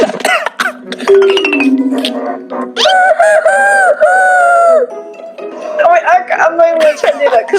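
A man imitates a rooster crowing with his voice, a drawn-out cock-a-doodle-doo held for nearly two seconds, preceded and followed by laughter, coughing and chatter.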